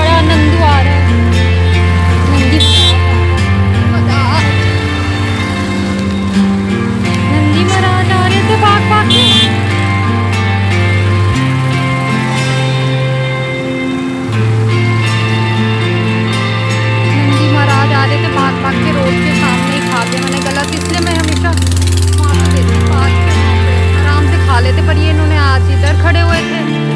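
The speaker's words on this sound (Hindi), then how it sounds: "ट्रैफिक इतना चलता फिरता ट्रैफिक होता है रोड पे" Busy road traffic passes continuously, with engines droning and horns tooting now and then, the flow loud and close throughout, with speech heard over it.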